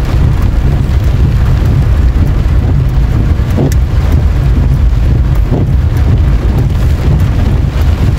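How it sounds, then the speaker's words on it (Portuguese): Heavy rain and gusting wind batter a vehicle driving on the BR-026 highway near Maracás in Bahia, Brazil, a loud, steady roar of wind and rain with a few sharp knocks and no talking. "chegando embaixo de chuva"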